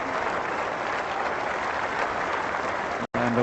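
Sustained applause from a cricket crowd at a 1996 England versus Pakistan Test match, greeting Moeen Khan's dismissal after his innings; steady, dense clapping throughout, briefly cut by a short gap near the end.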